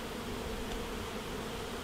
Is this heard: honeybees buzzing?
yes